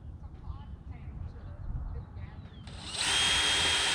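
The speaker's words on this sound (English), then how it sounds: "So we'll drill a hole here in order to start with my" A power drill bores a starter hole while building a chicken waterer, its steady loud whine starting abruptly partway through after quieter handling and speech.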